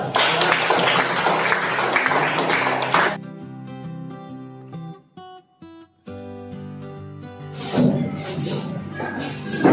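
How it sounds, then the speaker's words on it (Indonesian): A classroom full of students claps, giving a short burst of dense applause that stops after a few seconds. Quieter room sounds follow, then a second round of clapping rises again. "Kasih aplaus."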